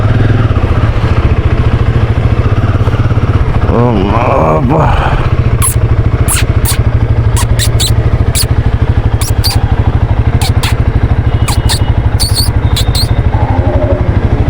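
A motorcycle engine idles steadily after starting, a continuous low throbbing rumble with light mechanical ticking, loud and close throughout.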